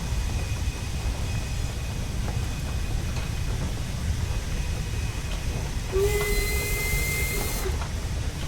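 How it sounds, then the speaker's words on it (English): Steam locomotive whistle in the train simulation game Train Sim World 3, one sustained shrill blast of about two seconds rising from a steady rolling rail rumble and hiss. "Can't help with that whistle."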